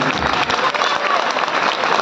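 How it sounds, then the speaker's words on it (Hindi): An audience at an evening poetry event in Howrah claps loudly. The sustained, dense applause is mixed with a few crowd voices. "एक बार इनके लिए जोरदार ताली बजाइए"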